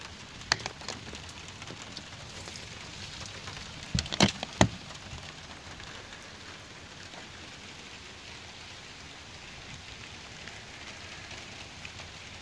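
A spring rain shower falls outdoors in a garden, with a steady soft hiss of drops throughout and a few sharper clicks and taps of nearby drips.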